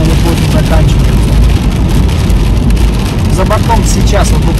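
Rain drums steadily on a car as heard from inside, near Lazarevskoye in Sochi, a dense, loud, unbroken hiss over a low engine hum, with a faint voice in places.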